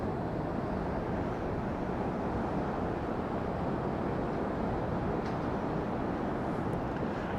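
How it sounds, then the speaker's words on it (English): A steady, rushing roar of sea waves breaking and washing over rocks onto sand at Peguera, Mallorca, continuous and fairly loud throughout, with no voices. "The sound of the sea, the sound of the water smashing against the rocks and rolling on into the sand"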